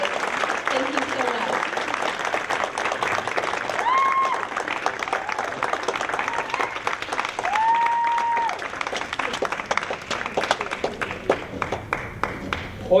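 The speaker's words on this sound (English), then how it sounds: "A big round of applause for them." Sustained applause from an audience at a Northern California Cherry Blossom Queen program, dense steady clapping that fills the room, with a voice heard over it and a few whistles.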